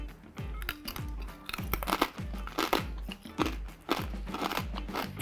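Close, rhythmic crunching as crispy pork belly crackling is chewed, a steady series of loud crackly bites about twice a second.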